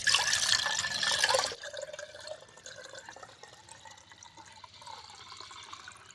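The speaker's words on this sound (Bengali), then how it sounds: "এই ঘোলটা আমি এই যে ঘটিতে ঢেলে নেব" Buttermilk pours into a small pot in a strong, rushing stream for about a second and a half, then settles into faint trickles and scattered drips.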